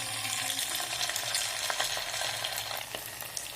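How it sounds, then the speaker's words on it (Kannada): Potato squares fry in hot oil over a low flame, a dense continuous crackle and hiss with small bubbling pops and faint stirring, close and steady throughout. "ಲೋ ಫ್ಲೇಮಲ್ಲಿ ಇಟ್ಟು ಕರಿತಾ ಇದ್ದೀನಿ"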